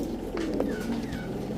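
High flyer giribaz pigeons coo softly and close by, a few low rolling calls over a steady background hum.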